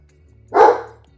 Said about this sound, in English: It wouldn't be a stream without my dog interrupting.